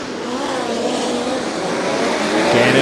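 USAC National Midget race cars roar around the Angell Park Speedway dirt oval at the 2024 Firemen's Nationals, a loud, steady engine drone with the pack close by and building slightly toward the end.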